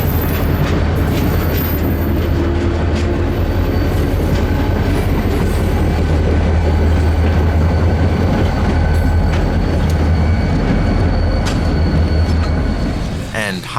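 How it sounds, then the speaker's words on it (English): Norfolk & Western 611 steam locomotive train accelerates onto the main line, a loud, continuous rumble of rolling cars with low engine drone and faint wheel clatter and squeal, close and unbroken throughout. "You can tell the engineer begins to open the throttle as the end of the train approaches"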